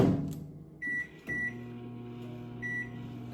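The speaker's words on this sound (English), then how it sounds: "So we're gonna put this in the microwave for 90 seconds." A microwave oven hums steadily while heating onions and broccoli for chicken fried rice, with three short electronic beeps rising above the drone.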